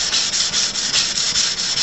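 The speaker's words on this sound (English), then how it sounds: "I like sanding blocks." Sandpaper in a hand sanding block rubbed back and forth on wood, a steady close scratchy rasp in rhythmic strokes with no talking.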